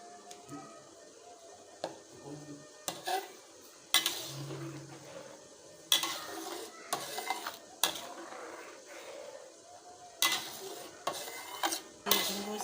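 Anchovies and spices stirred into a pan for Minang sambalado cangkuak, with repeated scraping and clattering strokes of a utensil against the pan at a steady, near rhythm.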